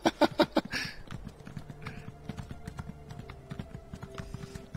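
Horse hooves clip-clop in a quick steady rhythm while riding in Elder Scrolls Online, after a few loud thumps at the start, moderately close and unaccompanied by talk.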